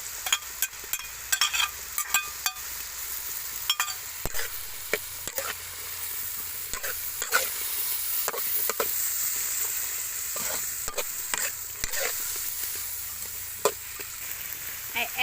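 Ginger and soybeans sizzle steadily in a hot pan, with frequent clicks and scrapes of a utensil stirring them throughout, close and continuous.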